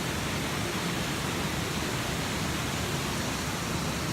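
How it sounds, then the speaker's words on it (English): Steady roar of the lower waterfall in Bells Canyon, a dense, unbroken hiss of falling water heard up close and loud, with no other sounds over it. "At the top of a waterfall."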